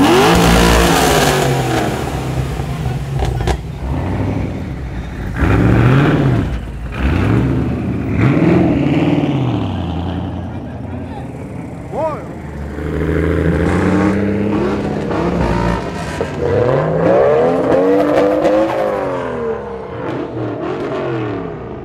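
A lumpy Holden VL Commodore revs hard and accelerates at a car spotting meet in Liverpool, Sydney, with several loud rising and falling engine sweeps, gear changes and passes sounding close, and no talk.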